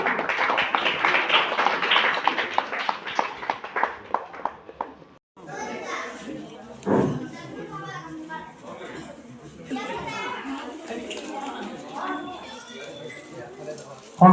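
An audience clapping hands for a felicitation at a village gathering, a dense burst of applause for about five seconds that stops abruptly, followed by scattered chatter and children's voices.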